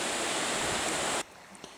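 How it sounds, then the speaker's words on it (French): The Orb river flows near Bédarieux as a dense, even rush of water. It sounds close and fairly strong for about a second, then cuts off abruptly into quiet. "Cette rivière, parfois sauvage, parfois il coule avec une grande tranquillité"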